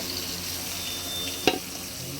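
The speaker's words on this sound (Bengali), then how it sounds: "মা এখানে পটল ভাজা বসিয়ে দিয়েছে" Pieces of pointed gourd fry in oil in a pan in a home kitchen, giving a steady close sizzle with a single sharp clink partway through.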